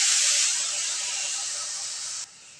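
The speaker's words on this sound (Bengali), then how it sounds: "এবার আমি সামান্য জল দিয়ে দিব যাতে মশলাটা পুড়ে না যায়।" Water splashes into turmeric and chilli spices frying in a pan, bursting into a loud, bright sizzling hiss that fades slowly, then cuts off sharply near the end.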